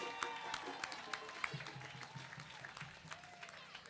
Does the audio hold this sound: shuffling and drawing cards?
no